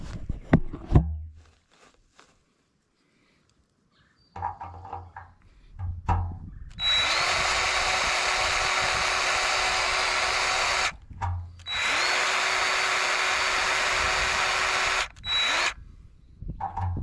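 A grease gun being worked on an 8 ft tractor flail mower hitched to a Massey Ferguson 245 gives a few faint clicks, then loud sustained mechanical whirring bursts of several seconds each, separated by brief pauses.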